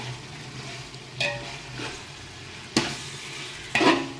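Chicken pieces being stirred into masala in a pot for chicken biryani: a soft steady sizzle underneath, broken by three distinct scraping strokes of a spoon against the pan, close and fairly quiet.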